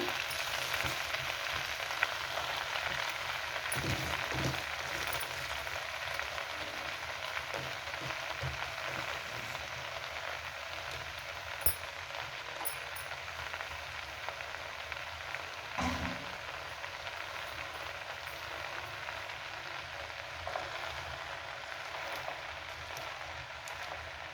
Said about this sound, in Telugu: ఇందులోనే గోంగూర వేసేసి ఈ గోంగూరను కూడా ఫ్రై చేస్తాను